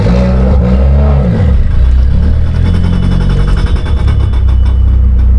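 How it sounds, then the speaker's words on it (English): A loud Mitsubishi Lancer Evolution X engine with an ETS turbo kit revs and idles close by while the drive shaft knocks against the exhaust downpipe in a rhythmic rattling metallic clatter underneath. "The freaking drive shaft's hitting the dump tube."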